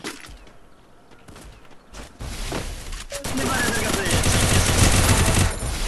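Gunfire in a shooter video game with a sniper firing, heard as scattered shots that build into dense, loud volleys of rapid crackling toward the end.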